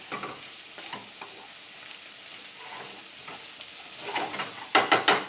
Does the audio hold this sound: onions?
yes